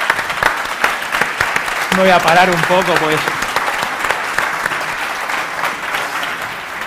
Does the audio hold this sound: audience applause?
yes